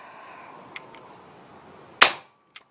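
Golden Eagle 460cc PCP air rifle fired in manual mode gives one sharp, loud crack with a brief decay, preceded by a faint click and followed by a small metallic click afterward.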